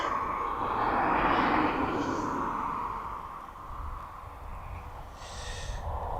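An EasyJet airliner cruising high over East Midlands Airport at about 38,000 feet gives a faint, distant jet roar that swells as it passes overhead and then slowly fades.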